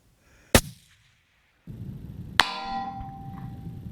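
Two loud long-range rifle shots crack out with sharp transients, the second followed by a ringing metallic decay and lingering echo at an outdoor range.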